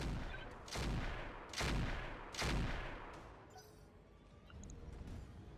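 A mech fires its weapons at a Jaeger in Roguetech, three loud, evenly spaced booming shots with sharp bright cracks, followed by quieter mechanical clatter and faint beeps.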